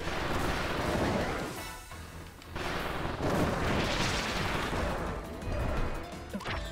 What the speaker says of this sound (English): Like a little solo bomb there.